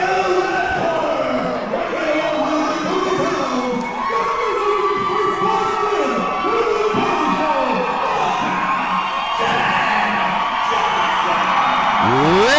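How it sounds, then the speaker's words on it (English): Fight crowd at a women's bout roaring and cheering continuously, loud and close, with whoops and shouts rising over the din. "Listen to that crowd."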